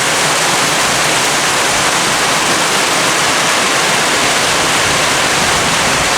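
Heavy rain pours off a roof in a dense, constant roar of falling water, loud and steady with no pauses and no voices.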